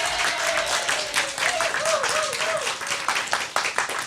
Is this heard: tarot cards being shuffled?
no